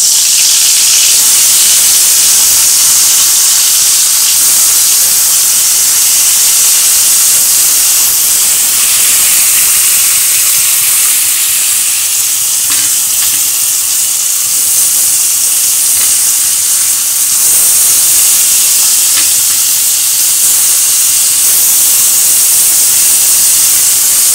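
Round-sliced potatoes and bitter gourd frying in oil, a loud, constant hissing sizzle that holds steady throughout, close and dense with no pauses.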